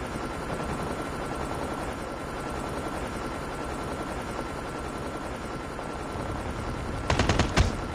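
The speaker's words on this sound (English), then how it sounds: "stealth chopper inbound." A stealth helicopter flies in during a Call of Duty Mobile match, heard as a dense, steady rotor roar filling the whole stretch, with a short burst of sharper gunfire-like bangs near the end.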